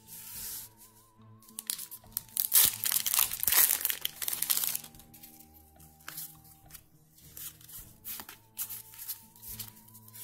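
Plastic wrapping on a Pokémon Sword and Shield booster pack crinkles and tears in several close, loud bursts, with quieter rustling and card handling between them.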